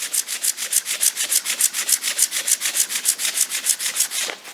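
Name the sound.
hand sanding in one direction for a brushed finish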